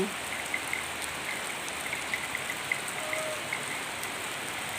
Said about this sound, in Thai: พี่น้องฝนตก